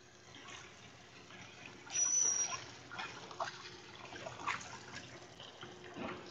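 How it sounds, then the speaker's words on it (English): Water drains and pours as cloudy, starchy rinse water is emptied from soaked noodles and replaced with fresh clean water, a steady close trickle and splash that swells briefly, with no talk. "remove the water, change it to fresh, clean water"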